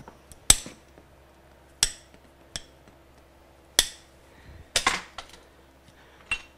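Nails being snipped to length with cutters: about six sharp, close metallic snaps at irregular intervals, each with a brief ring, and no voices.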